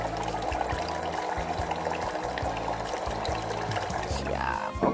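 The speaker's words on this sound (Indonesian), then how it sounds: "Kita isi sampai airnya menutupi ayamnya." Refill water poured steadily from a container into a cooking pot over raw chicken, a continuous splashing, gurgling stream that stays close and loud throughout.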